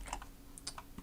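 A handful of quick keystrokes tap on a computer keyboard during coding work, a brief, faint burst of separate clicks close by in a quiet room.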